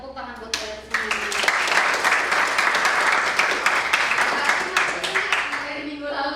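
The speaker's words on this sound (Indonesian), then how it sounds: "Oke, tepuk tangan buat saya semua." Audience applause fills a university lecture session, a dense, steady patter of many hands clapping together that swells quickly and holds for several seconds before tapering off.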